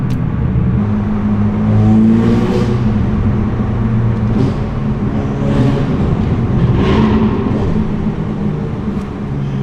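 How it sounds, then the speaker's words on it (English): A Porsche GT3 with an aftermarket, non-stock exhaust drives loudly nearby, its engine droning and rising steadily throughout with no talking over it. "That GT3 is loud. As you maybe have guessed as well, it's not stock on the exhaust on that as well."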